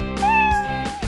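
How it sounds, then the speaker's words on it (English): A cat meows in a children's rescue-and-repair learning game, a clear, close, drawn-out meow rising then falling, followed by the start of a second cry. "Do you hear the cat?"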